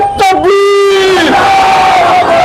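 A large crowd at an MIM political rally in Bhusawal roars a loud chanted reply to a Takbir slogan. Massed voices hold a sustained, sung-like cry after a leader's call, loud and close.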